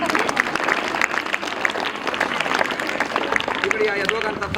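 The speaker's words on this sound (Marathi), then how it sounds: "हराळ मॅडमसाठी सर्वांनी टाळ्या वाजवा" A school audience at Shri Malganga Vidyalaya, Nighoj, applauding, a dense continuous patter of many hands clapping at steady volume, with a voice partly over it.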